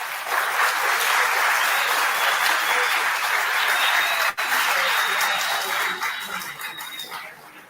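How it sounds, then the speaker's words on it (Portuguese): Sustained audience applause at a school AI talk event, dense and steady for several seconds before thinning out toward the end, with no talk over it. "E peço mais uma salva de palmas aí para o Rodrigo."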